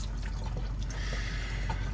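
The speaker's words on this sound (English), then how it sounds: "I'll turn my hot water on because it's not coming out of a tank." Hot water running steadily from a kitchen tap fed without a tank, a constant close splashing hiss with faint drips.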